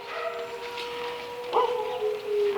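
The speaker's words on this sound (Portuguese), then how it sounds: "aqui sob os uivos dessa cachorrada aqui" A pack of dogs howls together in long, wavering, overlapping tones that hold steady at moderate volume, swelling a little louder toward the end, with no talking.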